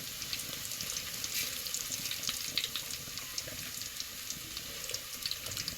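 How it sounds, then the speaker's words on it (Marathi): Garlic and mustard seeds sizzle steadily in hot oil as a tempering for a village-style country chicken dish, a dense close crackling hiss with small pops throughout and no talk. "तर आपण आता लसूण टाकून घेणार आहे. तर मस्त अशी फोडणी घेऊ आपण."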